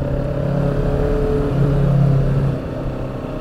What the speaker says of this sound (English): I don't like this engine